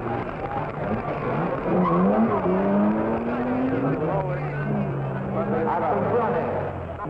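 Racing cars in the 1953 Mille Miglia road race, engines droning and revving as they pass at moderate distance, with someone narrating over the motor noise throughout.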